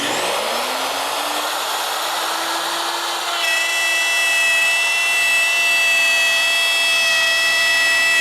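A high-speed router with an upcut spiral bit whines steadily, its pitch rising as it spins up, then cutting a circle in wood with a bright, sustained buzzing tone; no speech.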